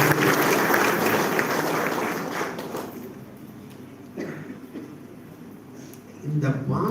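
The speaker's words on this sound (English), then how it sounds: "A grand claps, please." Audience applause at a college event welcoming alumni; dense clapping for about three seconds that tapers off, followed by a quieter stretch with faint crowd noise and a brief murmur of voices.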